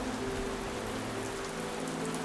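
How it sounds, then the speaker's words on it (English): Steady rain falls in a wet forest where dwarf kingfishers nest, a dense, even hiss of drops pattering on surfaces with no break. "The rains continue."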